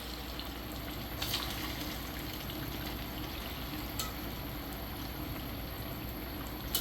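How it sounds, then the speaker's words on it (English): Breaded chicken pieces for General Tso's chicken sizzling in hot oil, a steady dense crackle and hiss that runs unbroken throughout, with a few brief louder pops along the way. "Now I'm frying, letting it fry."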